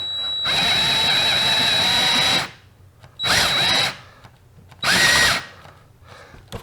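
Cordless battery drill running in three bursts while working on an aluminum door for a Can-Am Maverick X3: one long whir of about two seconds, then two shorter ones, loud and close with a slight pitch waver.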